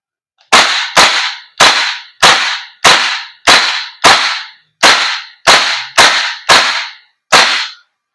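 An airsoft gas blowback rifle firing eleven loud, sharp cracks, close by and spaced roughly half a second apart in a steady semi-automatic rhythm.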